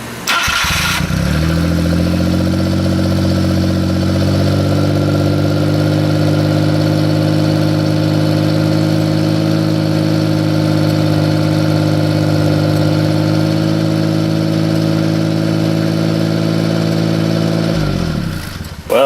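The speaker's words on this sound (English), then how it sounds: "now y'all can see what happens when the truck cranks up" A Suzuki truck engine cranks briefly and catches, then holds a loud, steady mid-pitched idle close by for about sixteen seconds before cutting off abruptly, with no one talking over it.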